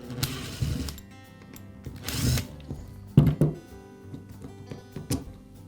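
Makita hammer drill being taken apart, with a small tool working out the two screws on its rear cover: brief whirring bursts and a few sharp knocks and clicks, close and separated by quiet gaps.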